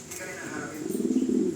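A male pigeon in a divided double cage coos while courting a hen, a low rolling coo rising in the second half, close and moderately loud with faint background sounds.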